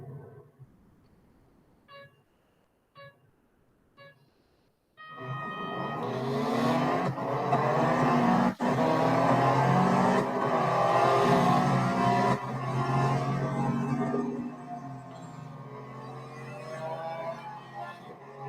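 Race cars in the Real Racing 3 mobile game at a Le Mans Ford event: a few quiet clicks, then a loud roar of engines accelerating through the gears, shifting and revving continuously as the pack races.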